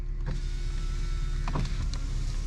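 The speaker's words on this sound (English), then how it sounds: "Both windows work." The electric windows of a Vauxhall Astra run in a short, quiet, steady motor whir inside the car, with a couple of faint clicks partway through and no talking.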